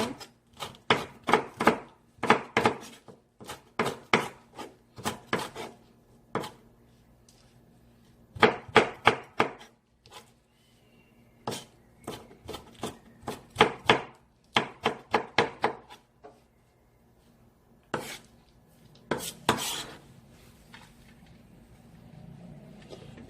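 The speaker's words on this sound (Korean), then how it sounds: "고추는 이렇게 잘게 다져주세요." A knife minces chili peppers on a cutting board in quick bursts of sharp chopping taps, with short pauses between the runs, close and alone.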